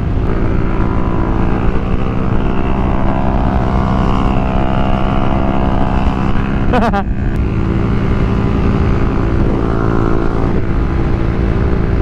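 Honda ADV160 scooter with a new power exhaust, engine droning loudly and close with rising revs and a brief sharp burst midway, steady throughout without speech.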